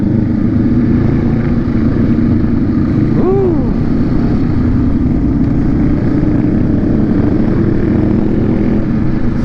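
Steady, loud low engine rumble throughout with a brief rising whine near the middle, like Honda Rebel motorcycles idling and revving close by at a charity ride.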